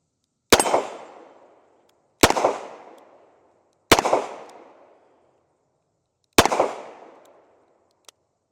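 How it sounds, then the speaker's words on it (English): Four loud, sharp revolver shots from a Smith & Wesson 640 .38 Special, unevenly spaced and each trailing a brief outdoor echo, with silence between them. "So let's go ahead and take a few more shots with her"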